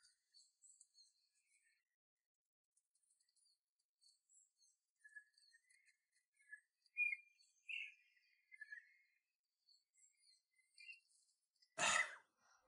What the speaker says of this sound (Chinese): 大家听一听鸟叫的声音